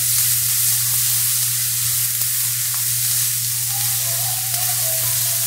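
Vegetables sizzling and wilting in a hot pan for an oriental noodle dish with vegetables, a steady loud frying hiss with faint stirring clicks and a constant low hum underneath, no talk.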